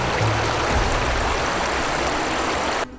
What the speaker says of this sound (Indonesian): Akhirnya mereka pun sampai juga di air terjun.